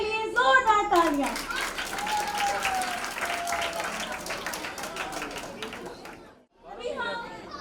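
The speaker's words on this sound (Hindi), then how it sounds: "दोनों पास्टर्स के लिए जोरदार तालियां।" An audience at a kids convention breaks into loud applause for two pastors, clapping with cheers and children's chatter, fading briefly near the end before voices resume.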